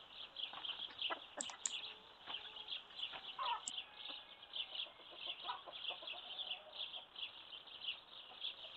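Hens and a rooster in a farmyard, a busy stream of overlapping clucks and short squawks, moderately close and continuous throughout.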